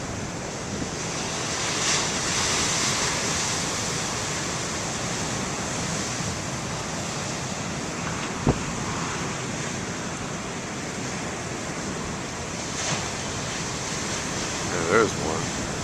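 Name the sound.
ocean waves breaking on the shore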